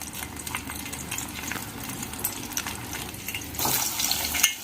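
Dark herbal plant pulp fries in oil in a pan and gets stirred, a soft crackling sizzle with irregular scraping and stirring sounds, growing louder and more intense toward the end.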